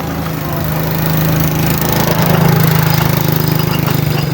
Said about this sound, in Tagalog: May motor. Hala, ayan motor.